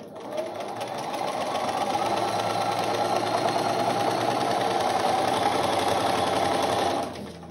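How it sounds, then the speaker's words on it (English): A sewing machine stitches a bridal bouquet border in one steady, close, continuous whir lasting several seconds before stopping abruptly. "we're going to turn on my machine. And we're going to sew on line one"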